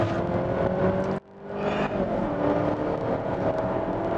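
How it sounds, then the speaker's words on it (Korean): Volvo XC90 mild hybrid SUV with an eight-speed automatic accelerating hard under kickdown, a steady engine roar that dips briefly as it shifts and then climbs again, heard from inside. "가속할 때 제법 힘 좀 쓰는데요 아주 빠르게 가속을 이어가고 있습니다"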